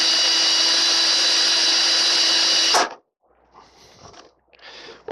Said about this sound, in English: I'm going to just rock the drill a little bit as I bore through.